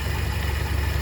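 A carburetted motorcycle engine runs after an adjustment to the carburetor's idle: a steady, close, low engine drone with an even rumbling pulse and no talk.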